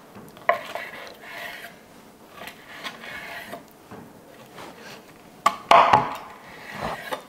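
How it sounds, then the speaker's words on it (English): A knife cutting through a rack of hot-and-fast smoked ribs on a board, giving scattered soft scrapes and thuds with a couple of sharper knocks, close and moderately loud. "So, I slice from the back, like this, and I'm just gonna cut the whole rack up."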